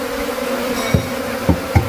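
Honeybees buzz steadily and loudly around a small colony being moved from a natural hive box into a framed box, with a few louder knocks or bumps breaking through the drone.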